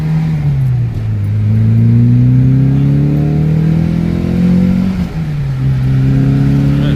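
A 1988 Volkswagen Scirocco accelerates on a highway, its engine droning loudly and steadily with pitch climbing through the gear, then dipping briefly at a shift before rising again, heard from inside the car with no talk.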